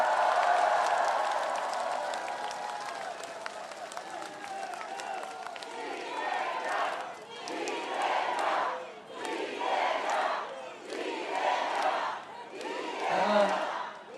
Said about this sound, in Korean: 함께한 동지들을 위해서 박수 한번 부탁드립니다.